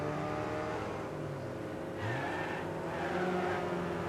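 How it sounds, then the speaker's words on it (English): A race car engine in the demolition racing game Wreckfest, droning steadily and then dropping pitch in a downshift around the midpoint before climbing again, loud and continuous with no voices. "That's a downshift right there, and probably not the best timing for it"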